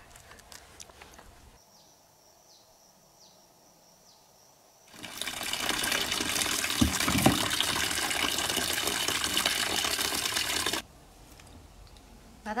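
Tap water runs over starfruit being washed: after a quiet opening, a strong gushing flow starts, pours steadily for about six seconds close by, then cuts off abruptly.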